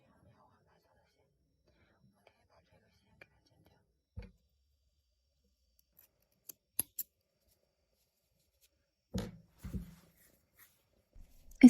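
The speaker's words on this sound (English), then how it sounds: "We can cut this thread for it." Scissors snipping embroidery thread in a quiet room: a few soft, isolated clicks and short snips, with a quick cluster of cuts near the end, faint and close.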